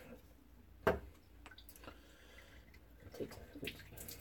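Warm water flicked from a wet Haircut and Shave Co Barber Pole shaving brush before a head shave: one sharp close splatter, then a few faint drips and soft wet rustles in a quiet room.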